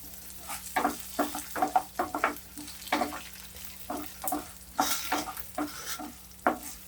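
Dry, crackling bursts of urad dal and cumin frying in hot oil come in uneven pulses, like a spoon stirring lentils around a pan, with a low hum underneath.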